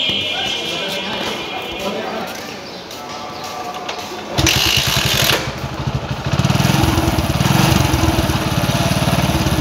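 A TVS XL Heavy Duty moped engine is kicked into life, starting with uneven low rattling that catches partway through and settles into a loud, steady, buzzing idle close by.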